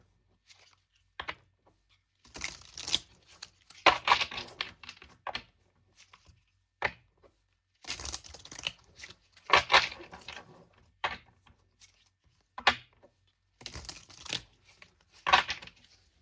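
Playing cards are shuffled repeatedly in crisp riffling bursts, each followed by a pause, close by with no talking.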